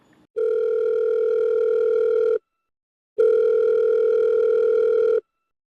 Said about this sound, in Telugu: మరి కాల్ చేస్తానండి, చేయండి మేడం